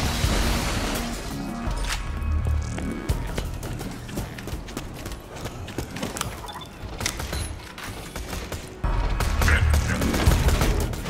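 Gunfire in the video game Borderlands 2 during a co-op session, with dense bursts of shots, crashes and impacts layered over busy game sound throughout, louder near the start and end.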